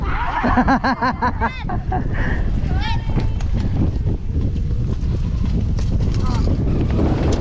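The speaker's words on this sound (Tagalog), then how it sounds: "Lakas ng hangin oh." Strong wind at Abagatanen Beach in Agno, Pangasinan, Philippines, roars across the microphone in steady gusts, with voices talking and laughing over it near the start.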